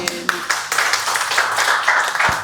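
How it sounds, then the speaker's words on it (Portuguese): An audience breaks into dense applause, a thick wash of clapping that rises quickly and holds, with voices talking over it. "uma salva de palmas para ele"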